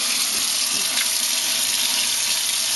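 Tap water runs steadily into a sink while salmon fillets are rinsed for home smoking, a continuous close, even hiss with no talk.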